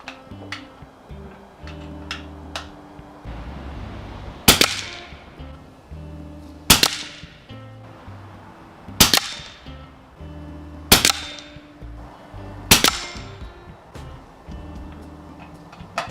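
Five or six sharp, loud 300 Blackout rifle shots firing S&B ammunition ring out one at a time, spaced about two seconds apart, each with a brief echoing tail over a quiet outdoor background.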